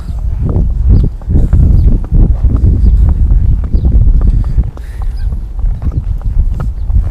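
A horse walking out on main roads, hooves clopping in an irregular steady rhythm close by, mixed with gusty wind buffeting the microphone throughout.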